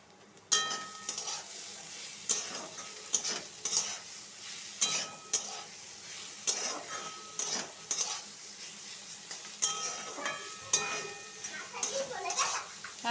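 Cabbage being fried again in a pan, a low sizzle under frequent clinking and scraping stirs of a utensil against the pan, with intermittent voices nearby.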